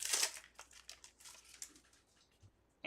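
Trading card packs from a Marvel Masterpieces case are torn open, with crisp crinkling and ripping bursts, loudest at the start and then coming in shorter foil rustles that fade before a final sharp tear.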